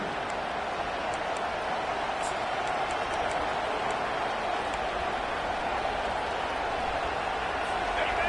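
A home crowd at a USC college football game roars steadily on a third down, a dense, continuous wash of cheering with a commentator talking over it.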